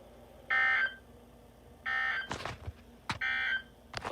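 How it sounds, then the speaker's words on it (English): National Weather Service weather radio warning alarm tone: three loud, steady high-pitched electronic tone bursts about a second apart, with short bursts of digital static and clicks between them. "This ends the test of the National Weather Service weather radio warning alarm."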